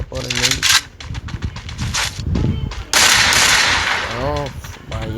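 Gunfire in the mobile battle game Free Fire while aiming for headshots, with sharp rapid shots in bursts, loud and close, mixed with someone talking over the action.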